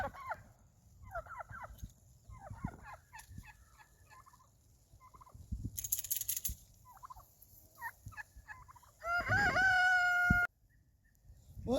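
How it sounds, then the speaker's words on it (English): Roosters crow repeatedly on a farm range day, several distant calls with clucking fowl between them, one loud close crow near the end, amid occasional sharp impulsive noises. "You can hear the chickens crowing."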